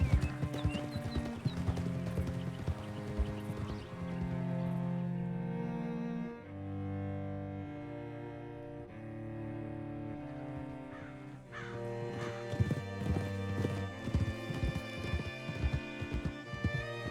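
Horse hooves clip-clop in the video game Red Dead Redemption 2, a steady rhythmic stream of close hoofbeats that thins out midway and picks up again, with a crow cawing and music in the background.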